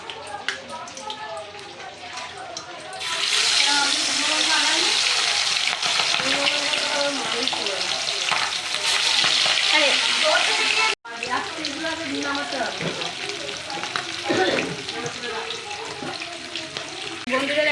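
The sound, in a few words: fish frying in hot oil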